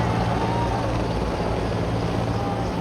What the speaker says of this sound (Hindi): हेलीकॉप्टर से फूल बरसाए जा रहे हैं।